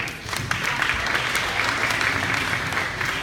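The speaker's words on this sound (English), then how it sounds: "Come on, y'all, you gotta clap." Audience clapping at a 2016 awards banquet as names are read, a steady dense round of applause sustained throughout at moderate loudness with no talk over it.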